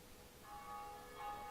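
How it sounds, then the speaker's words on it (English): The first Bell of Awakening in Dark Souls rings with a clear metallic tone, struck twice, sounding faint and distant with a lingering ring between strikes. "We have officially rang the first bell of awakening"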